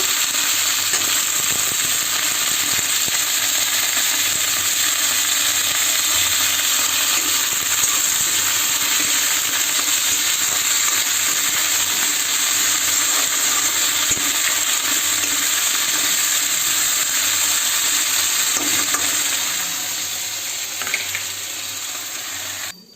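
Onion, fenugreek leaves and potato fry in a pan, giving a loud, steady sizzle and hiss that runs unbroken and close throughout, with occasional stirring knocks.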